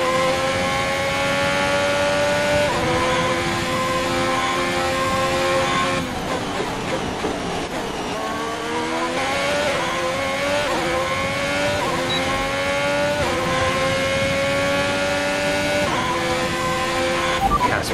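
A Formula 1 car in the F1 2021 racing game drives at speed, its high engine whine climbing and dropping through gear changes, with occasional team radio talk over the top.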